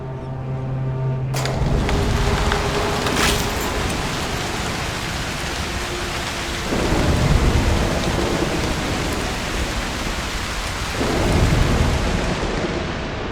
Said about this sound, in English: A storm could help.